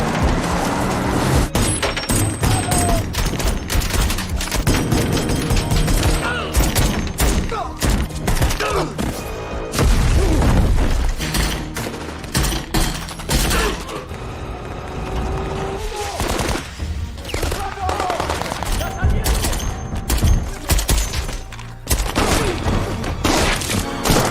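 Gunfire in a mafia action film shootout, with dense bursts of shots and heavy thuds continuing almost without pause over a driving score, loud and busy throughout.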